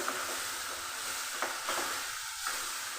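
Beans frying with spices in a pan, giving a steady, close sizzle with a few soft stirring scrapes and no voices.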